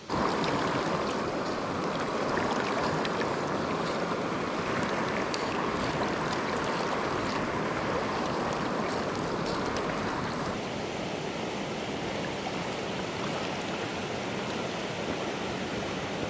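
A pretty stretch of a Colorado trout river flows steadily with broadband rushing water, a constant even wash with no talk, the bright hiss easing slightly partway through.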